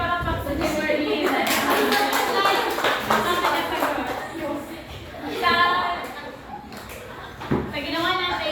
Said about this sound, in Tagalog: Bigyan natin yung palakpak sa Kimberly.